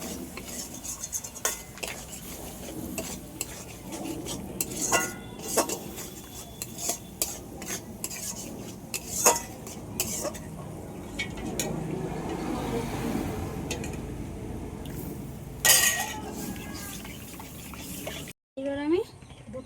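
A spoon stirs milk into mango caramel in a bowl while sweet mango yogurt is being made, with repeated clinks and scrapes against the bowl and soft liquid swishing, and a voice talking at times.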